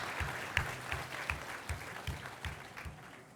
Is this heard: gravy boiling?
no